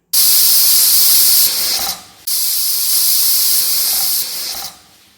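A pressure cooker cooking dal khichdi gives two long, loud steam whistles with hissing jets of spray, each fading down at the end, one after the other, with no talking.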